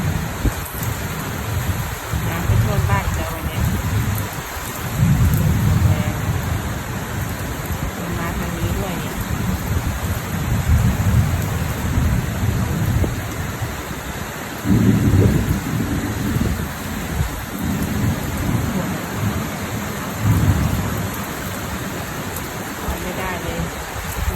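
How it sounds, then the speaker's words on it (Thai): Steady, heavy rain pours down with low rumbles of thunder rolling underneath, loud and continuous throughout. "ฝนตกหนักมาก"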